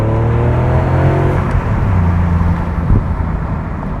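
A Bentley Continental on 19-inch wheels with Pirelli tires cruises steadily, its engine giving a smooth, continuous low hum with gentle shifts in pitch throughout and no talking.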